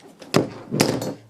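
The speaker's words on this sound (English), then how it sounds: "Now we can put the tubing into the cutter and push down." PTFE tubing for a Creality Ender 3 being cut in a tube cutter, making two short, close snapping clunks about half a second apart as the blade is pushed down, with no voices.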